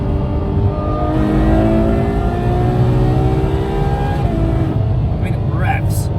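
A Ferrari Lusso V12 engine, closely related to the 812 Superfast's, revs hard and climbs steadily in pitch, loud and close, with a rising whine and brief snarl at the end.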